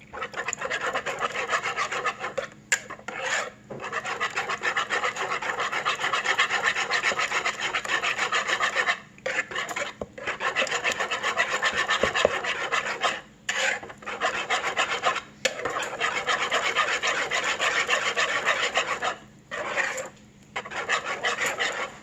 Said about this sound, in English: go ahead and whisk those ingredients together